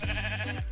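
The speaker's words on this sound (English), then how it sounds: "Let's set the sheep free." A sheep in the Minecraft video game gives a single short bleat, clear and close, with a wavering nasal tone.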